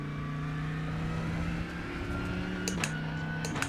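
A GT3 race car on Sebring circuit in the iRacing sim runs at a steady high-pitched engine whine, then shifts up with a brief dip and sharp clicks, loud and continuous without voices.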